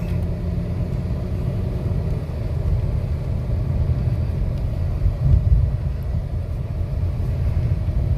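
A 2013 Dodge Avenger moves through stop-and-go traffic, its engine and road noise forming a steady low rumble heard from inside the cabin, with no voices.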